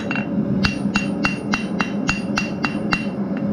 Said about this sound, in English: Now I'm just going to flatten this material out and make it wider.